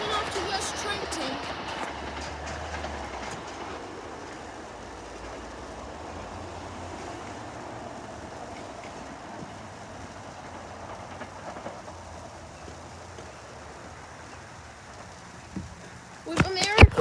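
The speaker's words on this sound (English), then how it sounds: "Here's the train coming in, the Doylestown for 1 of 4 rail cars." Commuter passenger train on a rail line at Elkins station, a long steady rumble and rolling rail noise of a multi-car train passing, with a louder burst at the end.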